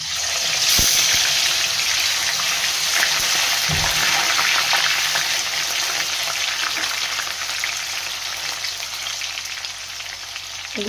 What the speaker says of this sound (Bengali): এইবার তেলের মধ্যে দিয়ে এটাকে ভেজে নেব।